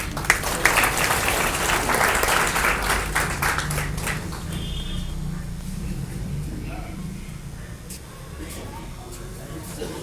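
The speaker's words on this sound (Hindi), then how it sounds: "तालियों में आकर स्वागत करें।" An audience claps to welcome speakers onto the stage at a cultural gathering, loud dense applause at first that thins and fades into room murmur and faint voices.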